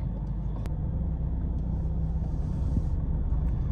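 A car engine idles with the air conditioning switched on, making a steady low rumble and blower hum that stays constant and close throughout, with no talk.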